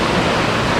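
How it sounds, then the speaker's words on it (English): A river near the hot springs of Salida, Colorado, rushing as a dense, steady broadband roar through a brief, unbroken moment. "You're actually on this awesome river"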